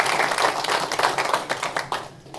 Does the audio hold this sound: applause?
yes